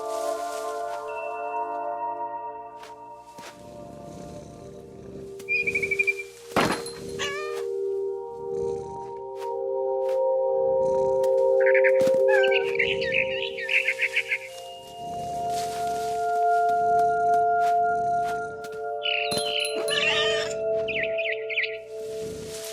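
Cat meowing in What Remains of Edith Finch, a few short mews and cries at moments, set against steady game ambience with footstep-like thumps and rustles.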